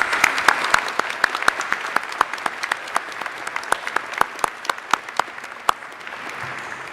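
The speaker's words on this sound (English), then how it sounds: "please join me in a round of applause for their service to us in this great country" Scattered, fairly light applause at an outdoor university commencement honoring military veterans, with individual sharp claps standing out distinctly over a soft bed of clapping that thins and fades toward the end.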